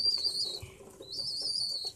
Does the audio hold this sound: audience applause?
no